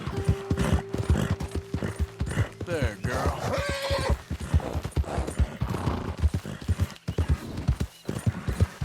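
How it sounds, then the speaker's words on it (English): Horse hooves clip-clop steadily at close range, with a whinny partway through, as a rider works a Morgan horse in Red Dead Redemption 2; someone speaks briefly over the hoofbeats. "I might try to finish bonding with this horse and getting another one"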